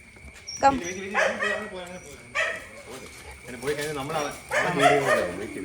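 A pet dog at home gives a run of close, sharp barks mixed with yips and whimpers, spaced irregularly across a few seconds.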